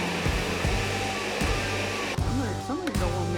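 A Ninja blender whirs steadily as it mixes a sauce for fish tacos. The loud, continuous motor drone has brief dips as the load shifts, and a voice cuts in near the end.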